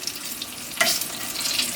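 A soft, steady sizzle of homemade samosas frying in oil, with a slightly louder crackling burst partway through.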